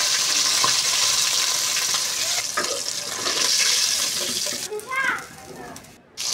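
Pieces of rui fish fry in oil, making a loud, dense sizzle up close for several seconds. It then drops away into quieter pan sounds, with a brief voice near the end.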